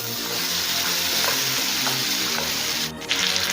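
Fish head curry cooking on low flame in a pan, giving a loud, dense, continuous sizzle and bubbling close by, with a brief dip and a clatter near the end.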